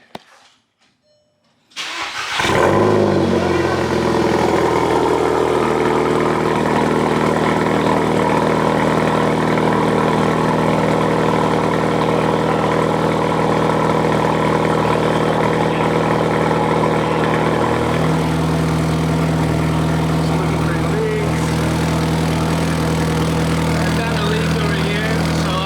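A 2012 VW CC 2.0 turbo with a straight pipe exhaust cold starts after a short starter crank, then settles into a loud, raspy, steady fast idle that drops slightly in pitch near the end.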